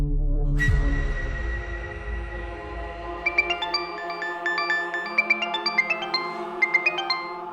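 Mobile phone ringtone for an incoming call, a melodic electronic tune of repeated short bright notes rising and falling, starting about three seconds in, clear and close over a sustained low musical drone from the opening.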